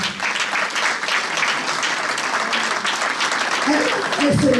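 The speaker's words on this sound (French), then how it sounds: "Est-ce que pour ça, on peut applaudir maman Mireille?" A crowd applauds steadily for several seconds, a dense, even clapping, with a voice briefly rising near the end.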